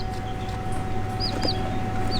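Yokohama Bantam hens cluck softly among chicks, with a few short, high calls rising over a steady low background hum.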